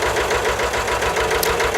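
Lister ST2 diesel engine idling in a Winget Four/40E dumper after head gasket repair, a loud close steady rhythmic knocking chug running throughout.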